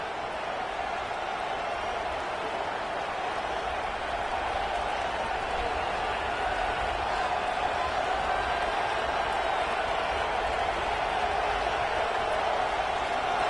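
Loud football stadium crowd, a sustained roaring wash of noise that stays even and continuous from start to finish, broad and distant-sounding with no pauses.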